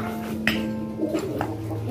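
Soft, low cooing from a pigeon in a couple of short bursts, with faint background noise and a steady hum.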